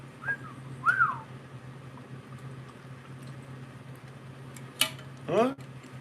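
Someone whistles short, warbling, bending electronic-style tones in imitation of the R2-D2 droid from Star Wars, with a few bursts over a low hum and a fast rising chirp near the end.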